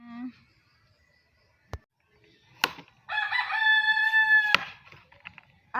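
A live chicken crows once, loud and clear, shortly before being cooked into Filipino tinola, preceded by a couple of sharp knocks in an otherwise quiet outdoor setting.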